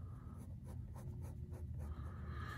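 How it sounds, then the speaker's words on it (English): Soft scratching strokes of a pen or pencil shading part of a grid by hand, faint and close, a rapid back-and-forth rhythm over a low room hum. "So let's shade the left part."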